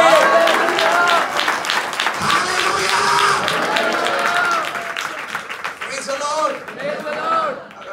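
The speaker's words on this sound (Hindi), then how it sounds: "जोर से ताली बजाइए हवा के लिए।" A church congregation breaks into loud, sustained clapping during a worship service, a dense wash of applause that carries on with voices mixed in throughout.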